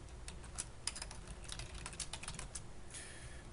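Quiet, steady typing on a computer keyboard, with a brisk run of close key clicks and no talking.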